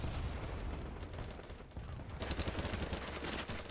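Rapid bursts of gunfire in the online shooter BattleBit, dense and continuous across the whole stretch, loud and close with overlapping shots.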